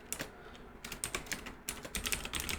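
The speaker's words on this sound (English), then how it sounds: "I'm being very careful when I'm typing the counts so often." Rapid, irregular keystrokes on a computer keyboard while code is typed, a steady close clatter of clicks and taps with no talking.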